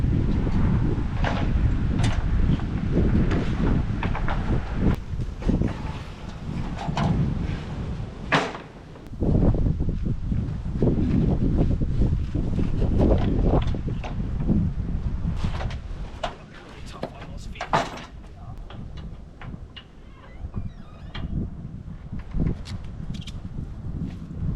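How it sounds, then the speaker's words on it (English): Strong gusty wind buffets the microphone in a steady roar, with voices talking faintly underneath and occasional knocks. "It's so windy."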